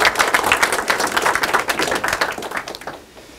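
Audience in the main auditorium of a national anti-corruption training institute applauds to welcome a lecturer at a lecture contest, a dense burst of clapping that fades out over the last moments.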